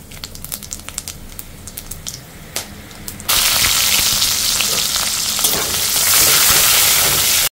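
Whole garam masala and cumin seeds hit hot oil in a pan with a sudden loud sizzle that stays steady and crackling, after a few seconds of light clinks and stirring.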